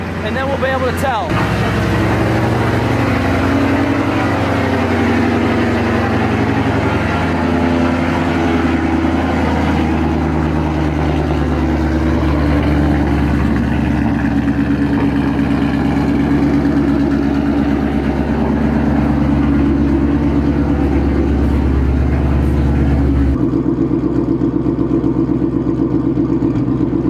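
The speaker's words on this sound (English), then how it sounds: "we gotta let it idle for a little bit and then we'll be able to tell." The modified 700hp Ford Mustang GT idles close by with a deep, steady, rumbling drone that continues throughout, dropping slightly in tone toward the end.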